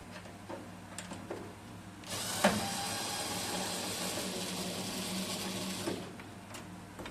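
A power screwdriver whirs steadily for several seconds, backing screws out of the rear panel of an Electrolux dryer, with faint clicks before and after the run in a quiet workspace.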